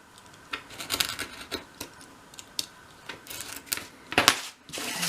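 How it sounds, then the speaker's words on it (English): A craft blade cuts through material for a miniature Christmas room box, making a series of close, light clicks and scratchy ticks at uneven intervals, fairly quiet, with no talking. "So now my final cut at the bottom there."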